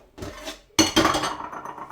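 Washing up at home: dishes and cutlery clink and clatter nearby, with a soft knock followed by a sharper burst of rattling and chinking that fades away, and no talking.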